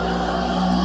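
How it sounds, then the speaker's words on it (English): A truck passes along a road, its steady engine roar and tire hiss filling the whole stretch at fairly close range and building slightly toward the end. "There's another truck coming. I can hear him."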